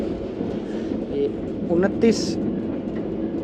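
The Shalimar Express passenger train runs at speed, a steady rumbling roll heard from inside an AC coach, with a brief squeal or horn-like tone midway and faint talk in the background.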